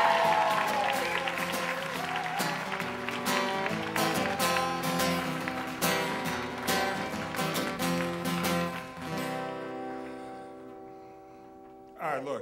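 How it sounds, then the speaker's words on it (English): A storytelling audience applauds the next teller, steady clapping under music-like tones and talk that thins and fades away toward the end. "Big round of applause now for Jeff Simmermon."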